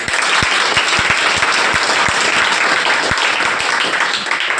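Loud, dense audience applause at a Hindi-language welcome event for topper students, a steady wash of many hands clapping throughout, with a few sharper individual claps standing out.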